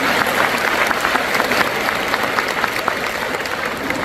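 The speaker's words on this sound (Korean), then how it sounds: "우리 박수로 한번 인사드리겠습니다." A church congregation applauds at a Full Gospel revival service during a North American general assembly, with dense, steady clapping from a large crowd filling the whole span.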